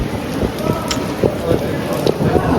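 Rain falls on the streets of Vienna during a walk, a steady hiss broken by scattered louder taps and footstep-like thuds close by.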